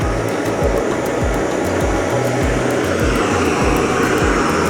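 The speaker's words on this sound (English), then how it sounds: "the Jetboil is much noisier than the PRIMUS" A Jetboil Flash camping stove burner roars loudly and steadily at close range during a boil test, with faint rhythmic ticking over the constant rushing hiss.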